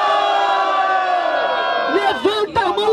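A dense crowd at a freestyle rap battle roars and cheers with shouts and whoops, loud and sustained, with a few higher yells rising near the end.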